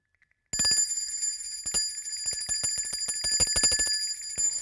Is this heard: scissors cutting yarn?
no